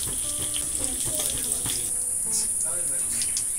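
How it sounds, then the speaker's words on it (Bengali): Cumin seeds, a bay leaf and a dried chili sizzle in hot mustard oil, giving a steady crackling fizz with scattered pops, while a voice talks faintly underneath. "আর একটু আমি সরষে তেল দিয়ে দিলাম, জিরে ফোড়ন দিয়ে দিচ্ছি একটা তেজপাতা আর একটা শুকনো লঙ্কা।"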